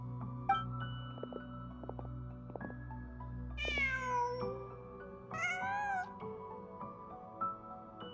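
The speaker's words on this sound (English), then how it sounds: "Huh. Just a cat." A cat meows twice in the Genshin Impact game world: two drawn-out, rising meows, clear and close, over a quiet ambient background music bed.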